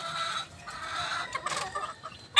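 Young stag roosters cluck and squawk in short, irregular bursts in a backyard pen, fairly close, with a sharper call breaking out at the end and no talking.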